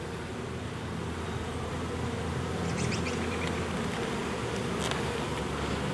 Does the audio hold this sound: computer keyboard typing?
no